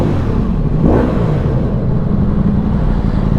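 Ducati Multistrada V4S motorcycle accelerating hard with a quick auto-shifter gear change, a steady loud engine roar and rising rasp under wind rush, heard from the rider's position.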